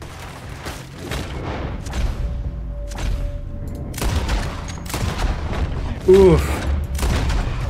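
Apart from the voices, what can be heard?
gunfire in Red Dead Redemption 2 video game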